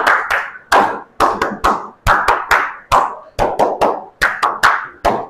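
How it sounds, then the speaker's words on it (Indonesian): A group of people claps in unison, a steady rhythm of five sharp claps repeated three times, close and loud with brief pauses between sets, during a classroom guidance session. "tepuk 5 3 kali, lakukannya tepuk 5 3 kali"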